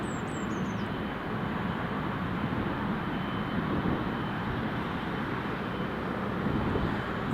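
An Emirates jet airliner lines up on the runway at Newcastle International Airport, its engines a steady, loud, broad roar that holds level throughout without a pause.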